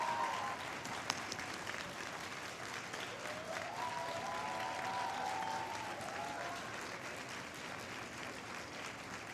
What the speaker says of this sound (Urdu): وہ کھڑے ہو کر اپنے ماں باپ کے لیے، پیرنٹس کے لیے بہت زوردار تالیاں بجائیں